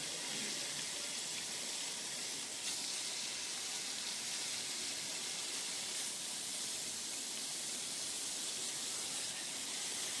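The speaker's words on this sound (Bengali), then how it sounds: "এবার মাছটা ভেজে নিই" Rohu fish frying in hot oil, a steady, fairly quiet hiss and sizzle that holds even throughout, with no voices over it.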